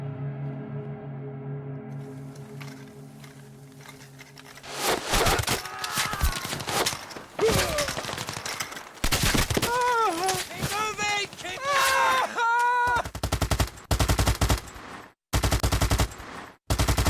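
Battle of the Somme gunfire and artillery barrage: after a quiet tonal opening, loud rapid machine-gun bursts and heavy gunshots break out in clustered volleys, with sharp cracks repeating up close until the end.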